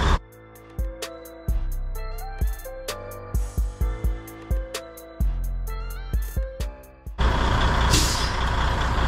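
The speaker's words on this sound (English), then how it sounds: "You turn on your truck. You let it build up the air all the way till it purges." A Freightliner diesel truck builds air pressure, heard as a quick run of repeated sharp clicks and tones, then ends in a loud, sustained burst of air hiss as the air system purges. No one speaks.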